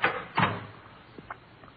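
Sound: door opening or closing in a radio drama

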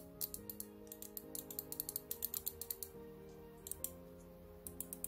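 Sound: Gamepower Sendo RGB gaming mouse button clicks

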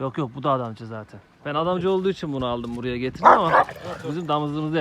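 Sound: Kangal dog barking

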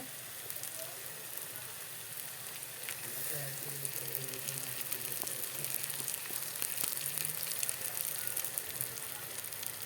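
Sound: ground spice paste poured into hot pan, frying

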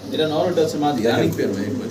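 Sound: silver Lahori pigeons cooing

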